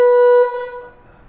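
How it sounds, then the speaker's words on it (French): A car horn blares in one loud, steady tonal honk lasting under half a second, then cuts off into quiet. "Ça klaxonne"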